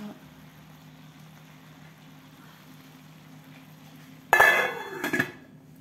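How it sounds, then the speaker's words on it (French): A metal lid clanks shut on a cooking pan with a sharp, close clatter and a short ringing rattle, heard after a few seconds of quiet hum. "je vais fermer le couvercle"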